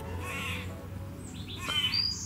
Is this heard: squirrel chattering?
yes